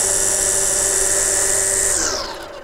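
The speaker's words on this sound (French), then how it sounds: "L'avantage maximal de la débroussailleuse à batterie, comme tous les outils à batterie d'ailleurs, c'est le démarrage instantané." Greenworks 40V cordless string trimmer with bike handle running at a high-pitched steady whine, loud and close, then spinning down as the motor releases near the end.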